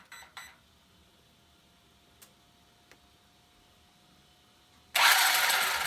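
A Traxxas Slash RC car's electronic speed control is switched on: a few faint ticks, then a sudden loud, steady electric hiss and whir that starts abruptly and holds to the end.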